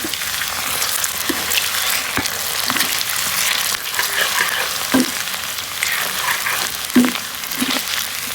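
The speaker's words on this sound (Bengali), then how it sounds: "তো আমি একে একে সব সবজিগুলো ভালোভাবে ভেজে নিচ্ছি।" Vegetables frying in oil in a pan, a steady close sizzle with occasional louder pops and stirring knocks, no talk.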